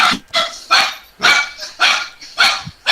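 A dog barks in a loud, close run of about seven sharp barks in a fairly regular rhythm, with no talking over them.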